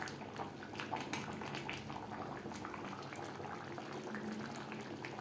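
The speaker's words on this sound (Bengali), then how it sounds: "দু তিন মিনিট গ্রেভির সাথে আলু ফুটিয়ে নেব" Potato chunks simmer in chicken biryani gravy with a continuous, close bubbling and popping of thick liquid, steady from start to finish.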